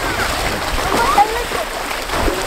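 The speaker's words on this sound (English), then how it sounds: "Swimming is hard, bro." A beginner swimmer thrashing in water, producing continuous close, loud splashing and sloshing with irregular surges throughout.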